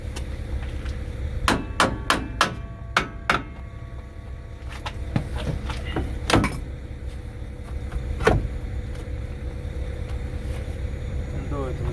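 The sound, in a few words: hammering brake shoes into place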